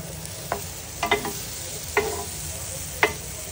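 Food fries on a rack-style grill pan in a restaurant kitchen, giving a steady close sizzle broken by a few sharp clicks and scrapes of a utensil.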